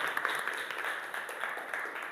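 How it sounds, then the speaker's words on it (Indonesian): A class of students in a physical education lesson on shot put claps for a classmate named Azhar, giving quiet, scattered applause that runs steadily throughout. "tepuk tangan dulu untuk Azhar"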